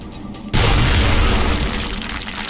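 A frag grenade in XCOM Long War detonates after a brief quiet moment, a single loud, deep boom that rumbles on and slowly fades.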